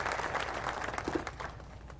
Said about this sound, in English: Let's give a round of applause to the men and women of Western New York who will be building this incredible fortress